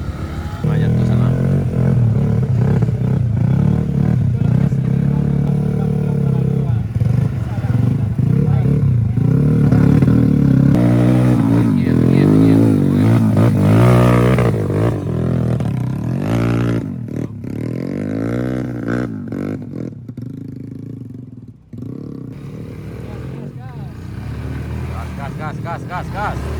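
A motorcycle rides up a mountain road at Bukik Kapau, Sariak Bayang, its engine loud and close, revving and accelerating in surges before easing off, with voices talking over it.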